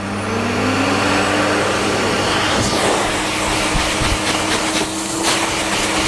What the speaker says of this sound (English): being dried with such a powerful, forceful dryer